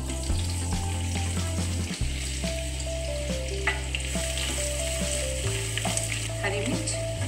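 Bay leaf, onion and whole spices such as cloves, cinnamon and star anise fry in hot oil, giving a loud, steady sizzle with occasional stirring clinks close by; nobody talks.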